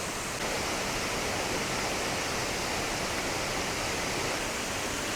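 Water rushing steadily through a dam, a dense, continuous roar of flowing water with no breaks, loud and close, with no voices.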